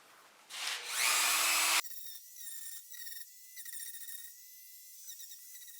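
A Dremel rotary tool with a sanding barrel sands a plywood coffee cup: a loud, high motor whine spins up, then drops to a quieter grinding buzz that pulses unevenly as the barrel meets the wood, close by with no speech.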